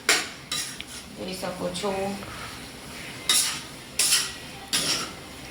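Flour roasting in ghee on low heat for magas is stirred in a pot with a metal spoon, making repeated close scraping clinks in short bursts between brief bits of talk.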